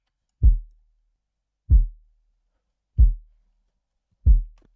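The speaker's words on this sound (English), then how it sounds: "I'm running it through the drum bus where I'm just adding low end, and this is what that low end sounds like." Four evenly spaced deep kick drum thumps with boosted low end through a drum bus, each a boomy short hit with a brief tail, alone in silence.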